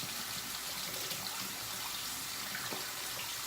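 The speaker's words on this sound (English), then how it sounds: "always rinse my razors in hot water before I pass." A razor is rinsed under hot water from a tap, which runs in a steady, fairly quiet splashing rush throughout.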